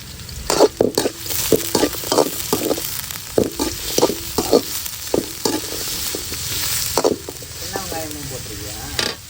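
Onions frying in hot oil in a home kitchen, a steady sizzle broken by repeated stirring scrapes and clinks of a utensil against the pan, close and fairly loud, with brief speech in between.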